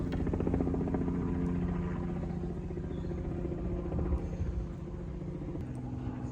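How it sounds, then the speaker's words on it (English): A helicopter's steady rumbling drone with a faint rhythmic chop, heard from a distance over a fishing venue, with no voices. "Someone in that bloody helicopter."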